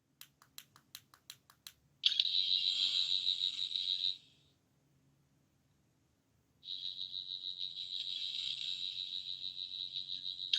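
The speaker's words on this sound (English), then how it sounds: "Fourth sound is kind of like an alarm noise, and the lights also play a part in that as well." A rapid run of clicks, then a loud, steady high-pitched electronic whine from a Doctor Who 14th Doctor sonic screwdriver toy's alarm effect, stopping and, after a pause, returning for several seconds. No one speaks.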